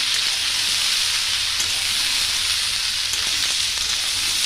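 Sliced ridge gourd dropped into a hot pan of frying onions and potatoes, giving a steady, dense sizzle that holds even and unbroken throughout, with no voices.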